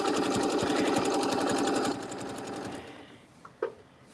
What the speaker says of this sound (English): do about 3 little stitches